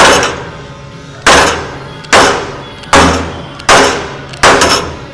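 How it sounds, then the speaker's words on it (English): Heavy hammer blows ring off a damaged car frame in a steady rhythm, about six sharp strikes spaced under a second apart, each clang trailing off before the next. "you gotta be able to swing a hammer upside down."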